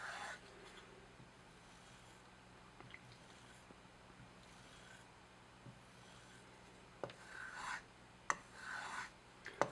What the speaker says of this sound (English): come on the corner of the strop and strop at the same angle that we sharpened at